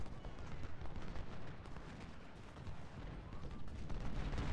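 Musket fire in a Civil War battle from Ultimate General: Civil War, a distant, rolling crackle of many volleys and scattered shots that rumbles on continuously without a break, faint and dense in the background.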